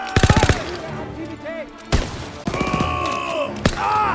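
Shotgun fire in a World War II battle in Germany's Hürtgen Forest, November 1944: a rapid cluster of sharp blasts up front, then a few single loud reports spaced apart over a rumbling backdrop of combat noise.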